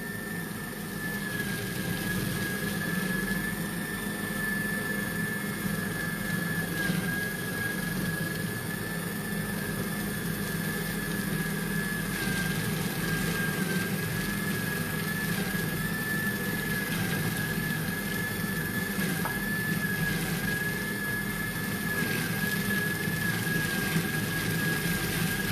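A blender set to speed 5 whirs steadily and loudly for the whole stretch, emulsifying a parsley-stalk pesto with a continuous high motor whine over a dense churning rumble.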